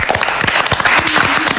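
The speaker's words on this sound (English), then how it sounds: "we just clapped" A studio panel audience claps briefly, a dense burst of many hands applauding together, loud and close, lasting just over a second with no talk over it.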